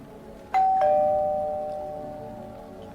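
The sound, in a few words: doorbell ringing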